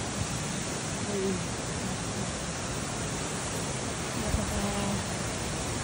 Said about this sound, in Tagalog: Puntaan sa Yorino Haki Falls.